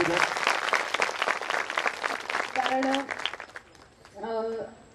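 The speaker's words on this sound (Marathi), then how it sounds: "जोरदार टाळ्या आईसाठी." An audience at a stage interview with an actress bursts into dense, steady clapping that fills the first few seconds, then fades as a voice begins speaking.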